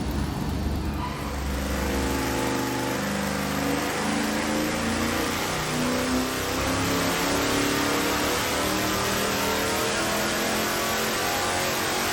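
A V8 engine running on 91 octane pump gas roars steadily on a dyno, a loud, continuous low rumble with rising harmonic tones as it climbs through the revs, with no voices.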